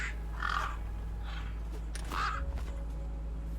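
A crow caws three times in a VR point-and-click game, harsh and fairly close, with short gaps between the calls over a low steady hum.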